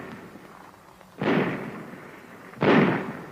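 A Thompson submachine gun with a box-type magazine fires twice, each a loud sharp report trailing into a brief roar, separated by a pause over a faint background hiss.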